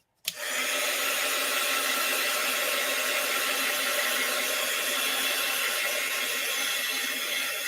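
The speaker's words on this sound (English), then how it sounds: "I'm going to grab my dryer." A handheld hair dryer switches on abruptly and runs at a steady loud whir and hum, drying watercolor and modeling paste, with no talk.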